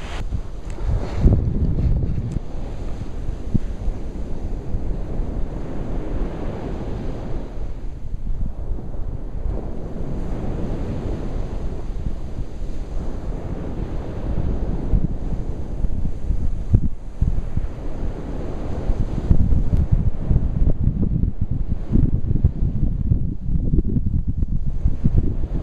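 Wind and surf at a beach in Hoi An, Vietnam, with strong gusts buffeting the microphone over a steady rush of waves that grows louder toward the end, no voices.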